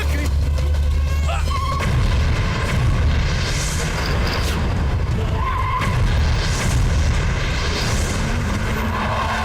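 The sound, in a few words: bomb explosion in a movie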